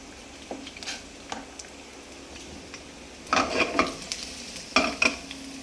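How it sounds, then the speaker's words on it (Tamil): Potatoes, carrots and broccoli fry in a pan with a faint sizzle, stirred in two bursts of scraping and clattering, with no one speaking. "இப்போ அந்த அவிஞ்சிட்டு இருக்க உருளைக்கிழங்கு, கேரட்டு, அதோட புர்கோலியும் போட்டுருவோம்."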